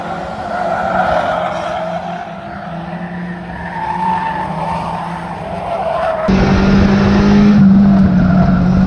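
A small Ford Fiesta race car engine drones steadily on the Cowdenbeath Racewall track at night, revving louder and higher toward the end, with tires squealing faintly.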